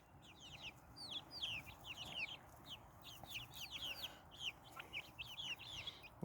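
Several chickens cluck and murmur inside a chicken tractor, with a steady stream of short, busy calls that overlap and come from close by, without any talk.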